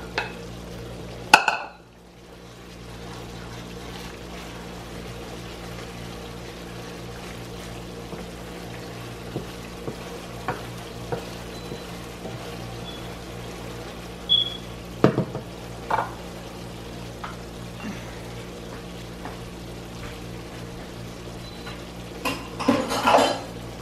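A spoon stirs oil in a pan while making latik, the coconut-milk topping for biko, with scattered scrapes and metallic clinks over a steady low frying hiss, louder knocks near the start and end.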